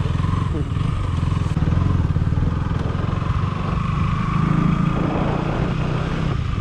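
Motorcycle engine running close by at the Peddagattu Lingamanthula Jatara festival in Suryapet District, a continuous low throbbing rumble with clatter from the surrounding crowd over the whole stretch.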